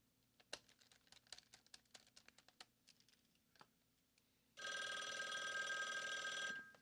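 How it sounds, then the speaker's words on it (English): A telephone rings in one steady, continuous two-second burst, loud and close, after a stretch of scattered light taps and clicks at a workbench where an old Sony laptop is being refurbished. "That's a phone call."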